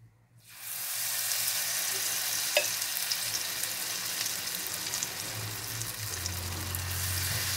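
Grated potato batter for potato pancakes (draniki) is stirred beside a hot pan, giving a steady close-up sizzle with faint scraping and wet mixing sounds running throughout.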